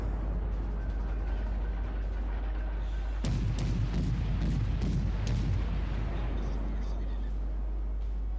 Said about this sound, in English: That was a terrible volley.